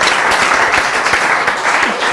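A German talk-show audience at Arthaus Talk claps after a short comic poem, a full, even burst of many hands that holds steady for two seconds, close and fairly loud.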